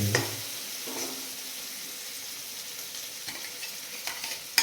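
Chicken sizzles steadily in a hot pan while a utensil scrapes and stirs now and then, a few sharper clicks near the end.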